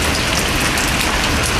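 Rain falling steadily in the city centre of Elazığ, a loud, dense, unbroken hiss of drops striking surfaces nearby, constant in level with no voices.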